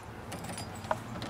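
Car keys jangle softly and click as they turn in the ignition, with a couple of small metallic taps over a faint interior hum.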